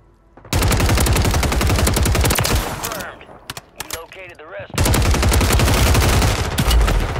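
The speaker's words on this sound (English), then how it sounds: "Why is my gun shooting pellets right there?" Rapid automatic gunfire rattles loudly in the video game Warzone 3 in two long, dense bursts, separated by a quieter stretch of in-game effects.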